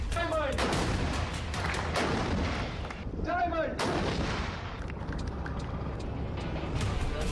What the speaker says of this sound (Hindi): ये 155 मिलीमीटर की सेल्फ प्रोपेल्ड आर्टिलरी है।